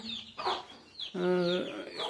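Country chickens clucking in a coop, a few close, brief calls with one longer harmonic squawk, in a quiet setting with no talk.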